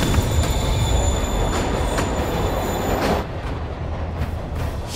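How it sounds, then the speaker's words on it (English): A moving train in the Spider-Man PS4 video game gives a steady, loud rumble with squealing wheels and rail clatter. It runs continuously throughout, and no one speaks. "Train moving."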